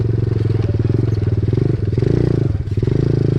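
A small pit bike is ridden hard, its single-cylinder engine close and loud with a rapid, chattering putter that rises and falls slightly as the throttle shifts.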